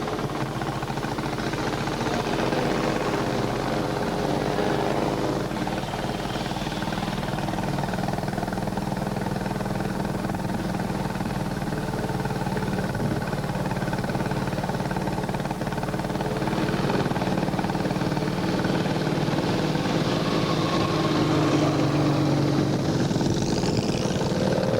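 Vintage motorcycles on a coast-to-coast run climb the long ascent of Larkhill Road, their engines droning steadily and continuously at moderate distance, with swelling passes and rising revs toward the end.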